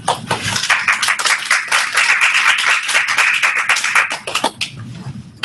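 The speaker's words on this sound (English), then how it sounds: "Goodness, an applause so early" An audience at a Global Digital Library demonstration bursts into lively clapping, many hands together at close range, building quickly, holding steady, then thinning out toward the end.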